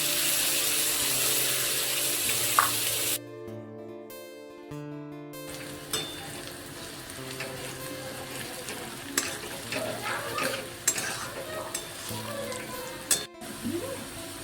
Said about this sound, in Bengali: পেঁয়াজগুলোকে ভালোভাবে লাল লাল করে ভেজে নিতে হবে।